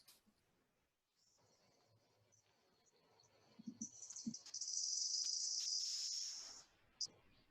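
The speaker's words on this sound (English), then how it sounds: "In that clip, you just heard Rizzo's echolocation clicks" A rapid buzzing train of high dolphin echolocation clicks, slowed to quarter speed, swells into a dense, continuous rattle, then stops abruptly, with a few scattered lower pops earlier on.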